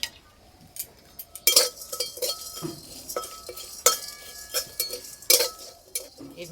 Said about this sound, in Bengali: কড়াই আমি গোটা মশলা ভেজে নেব